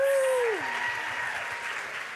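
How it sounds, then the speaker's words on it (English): Applause from a crowd at a school anti-bullying assembly follows a brief high tone, a steady wash of clapping that carries on at moderate level. "One more round of applause for them"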